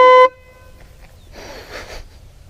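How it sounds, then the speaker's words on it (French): A loud aftermarket horn on a 125cc motorcycle gives one short honk outdoors, then fades to faint background noise and some rustling. "je vais vous refaire écouter le klaxon"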